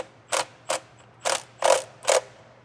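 Ratchet wrench tightening a bolt on a TH400 transmission filter under an LS-swapped truck: five short, sharp clicking bursts in an uneven rhythm, close and clear over a low steady hum.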